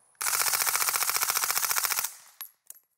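An H&K MP5SD suppressed submachine gun fires a sustained full-auto burst of about two seconds, a rapid even train of loud muffled reports, followed by a couple of brief mechanical clacks.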